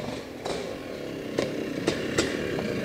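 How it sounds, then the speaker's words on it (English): A Honda CR480R motorcycle pulls up at a museum, its engine running with a steady low drone broken by a few sharp bursts as the rider blips the throttle. "Now a Honda CR480R just pulls up."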